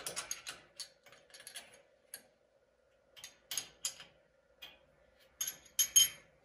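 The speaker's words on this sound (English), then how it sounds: "Snug up the 12 millimeter bolts" A ratchet wrench snugs up 12 millimeter bolts holding a bracket during a Precision Matthews PM-728VT mill power feed install: bursts of quick, close mechanical clicking with short pauses between strokes, alone, over a faint steady hum.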